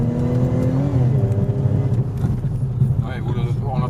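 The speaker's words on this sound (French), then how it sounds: "je vais accélérer un petit coup juste pour qu'ils s'en rendent compte" An ethanol-tuned stage 3 Audi S5 making about 530 hp revs up with a steady, deep engine drone that rises in pitch and stays close and loud throughout. Faint voices talk underneath.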